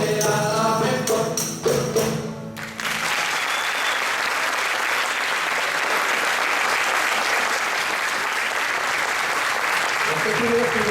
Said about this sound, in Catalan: Més fort, aplaudiment.